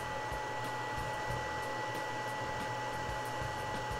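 A carbon and HEPA air scrubber fan built for a 3D printer runs steadily, giving a continuous loud whooshing airflow with a low rumble and a faint tonal whine, unbroken and alone for the whole stretch.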